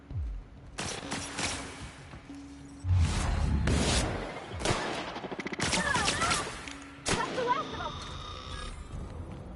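Rapid gunfire in The Outer Worlds comes in several fast bursts of shots aimed at the player, mixed with whooshes and impacts, loud and close, with someone talking intermittently between them.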